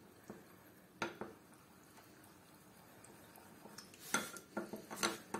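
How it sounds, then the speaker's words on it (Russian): A utensil scrapes and clinks against a pot as starch mixed with water is stirred, with sharper metallic knocks near the end, close and otherwise quiet. "Размешиваем, чтобы не было комочков."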